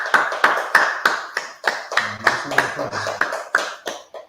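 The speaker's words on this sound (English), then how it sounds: "Clap it up." Steady, rhythmic hand clapping from a group at the close of a religious study class, crisp and near, with a brief low voice under the claps midway.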